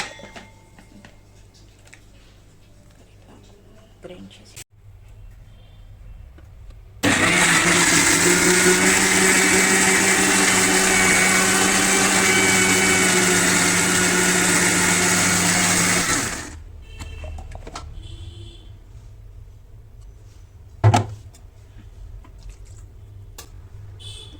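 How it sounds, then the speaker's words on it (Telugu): A mixer grinder whirs loudly and steadily for about ten seconds while grinding a paste for palak paneer, then cuts off, leaving quiet room noise and a few clicks. "అది కూడా సెపరేట్గా మిక్సీ పడదాం"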